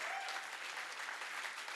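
A standing audience claps loudly and steadily at a Hindi-language gathering on Ramrajya and nationalism, a dense, continuous wash of applause filling the whole stretch with no speech over it.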